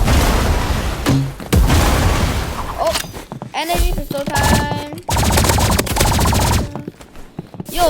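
Rapid energy pistol gunfire in the Roblox game Rivals, loud bursts and zapping shots mixed with game effects and excited talking.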